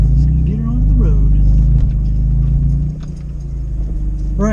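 A BMW M3 E46 convertible with a replaced clutch, master cylinder and slave cylinder rolls off from a driveway onto the road, its engine rumbling loud and close, easing lower partway through before rising again.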